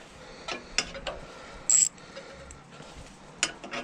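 An 8 mm socket ratchet working on the throttle of a Briggs and Stratton 3.5 HP lawnmower, giving a few quiet, separate metallic clicks and one brief bright burst of ratcheting, all fairly faint.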